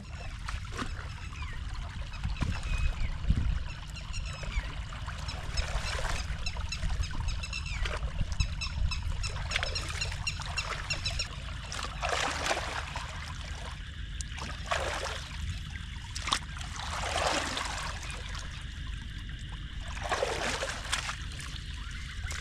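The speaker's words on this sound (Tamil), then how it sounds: "தண்ணி வருது" Rainwater flowing into a house after heavy rain in a village beside paddy fields, a steady low rush and trickle of running water with small splashes, moderately close and continuous.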